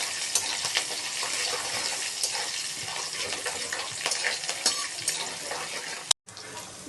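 Roasted ingredients for kande pohe are stirred in a pan, giving a continuous hiss with steady scraping and stirring. It cuts out abruptly near the end, then resumes.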